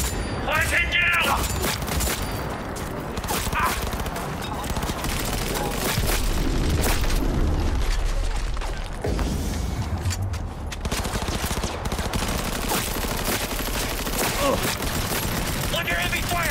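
Heavy sustained gunfire in Cyberpunk 2077, dense continuous bursts and booming impacts filling the whole stretch, loud and close, with speech mixed in beneath the barrage.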